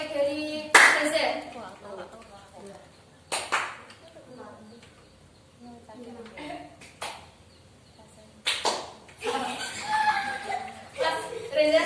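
Classroom 369 clapping game, a group of students clapping in bursts at irregular intervals, with a teacher talking and some chuckling between the claps.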